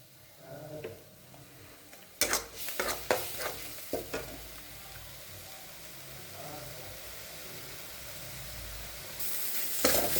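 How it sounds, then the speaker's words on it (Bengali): Spice masala for an eggplant dish fries softly in a pan, with a low steady sizzle and a burst of scraping, knocking stir strokes partway through, close and unaccompanied by talk. "মশলাটা কিন্তু ভাজা হয়ে গেছে,"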